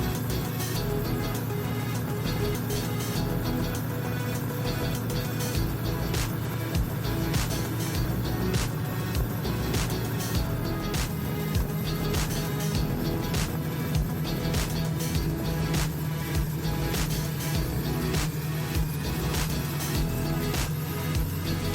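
A Triumph Bonneville T100 motorcycle rides along steadily, its engine droning low and continuous with wind rush and rhythmic mechanical pulsing throughout as the throttle opens.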